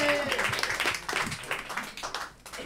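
An audience at a comedy stage show claps in a scattered, uneven burst that gradually thins out, heard moderately close.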